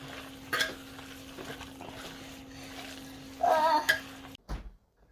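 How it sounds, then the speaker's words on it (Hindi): Minced meat for green kebabs being stirred and mixed by hand in a bowl, a soft squelchy rustle running steadily underneath, with a couple of brief clinks and a louder wet mixing burst near the end before it cuts off. "कीमे को मिक्स कर रही हूँ मैं"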